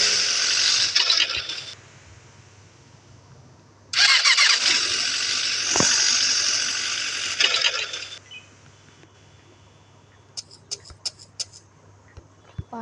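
A spawned motorcycle in the game Indian Theft Auto starts up, with two bright bursts of engine noise, the second longer, followed by a quieter stretch with short sharp clicks.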